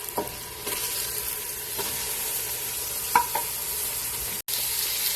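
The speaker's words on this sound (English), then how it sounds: "we're going to add the meat with the onion and the garlic. And we're going to saute the meat as well." Ground meat sautés with onion and garlic in a pan, a steady bright sizzle close by, punctuated by a few light utensil taps and scrapes.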